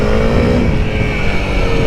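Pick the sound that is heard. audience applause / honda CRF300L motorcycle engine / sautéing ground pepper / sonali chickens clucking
honda CRF300L motorcycle engine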